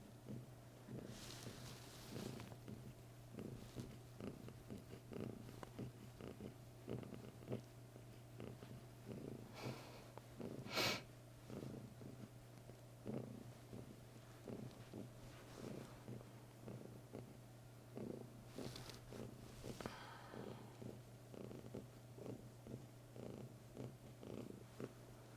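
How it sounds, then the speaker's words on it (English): A cat purrs softly from a few feet away, its steady rhythmic rumble faint and continuous, with small breathy snorts and occasional rustles breaking through the quiet. "she's further away from me, so the purrs are not as loud"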